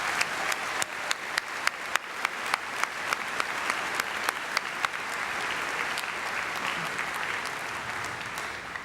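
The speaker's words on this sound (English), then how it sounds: "Let's give them a warm round of applause." A high school graduation crowd gives a warm round of applause, a broad steady clatter of many hands at moderate distance with a few louder near claps.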